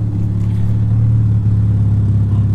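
A tuned project car engine idles with a smooth, steady low hum, close and loud, holding an even tone without revving and no voices over it.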